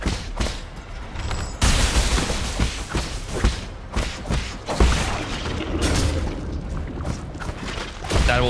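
Explosions and impacts from the video game Nine Sols, a burst of loud thuds, booms and shattering crashes with sharp onsets and dense mechanical clatter, roaring continuously across the stretch.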